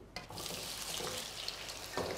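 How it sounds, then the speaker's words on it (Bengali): Cubed potatoes frying in oil give a continuous soft sizzle with faint stirring, close by and fairly quiet, no talking. "লাল লাল করে আলুটাকে ভেজে নিতে হবে।"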